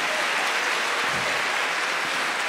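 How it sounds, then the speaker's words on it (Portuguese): A church congregation applauds during a Catholic sermon, a continuous dense patter of many hands clapping at steady volume throughout. "Aplauda esse irmão que vai mudar a partir de hoje."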